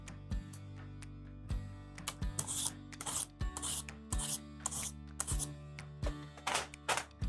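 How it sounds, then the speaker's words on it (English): A butternut squash is peeled in a kitchen, with repeated short scraping strokes at close range and low thumps as the squash shifts on the board in an uneven rhythm. "Just start peeling your squash."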